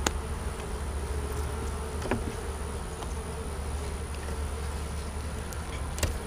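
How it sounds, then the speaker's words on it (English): Steady, dense buzzing of many honeybees in a packed, bearding beehive, a continuous close drone with a few faint knocks and no talking. "There's a lot of bees in that bottom."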